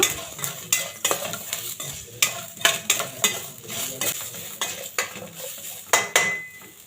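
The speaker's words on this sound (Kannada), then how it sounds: "ಸಣ್ಣ ಉರಿಯಲ್ಲೇ ಫ್ರೈ ಮಾಡ್ಕೋಬೇಕು" Lamb trotter pieces fry on a low flame in a pan and are stirred with a metal utensil, making repeated close scrapes and clinks against the pan over a faint, continuous sizzle.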